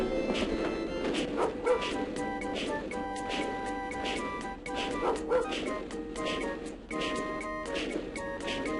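Repeated yapping dog barks and whimpers from the dog mode in the 1995 Rise of the Triad shooter game, coming in steady bursts across the stretch amid game sounds.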